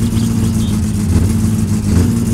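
An old car's engine in the game My Summer Car is held at steady raised revs to warm up, a loud, continuous low drone with slight fluctuations throughout and no talking.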